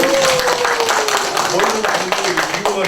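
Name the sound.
applause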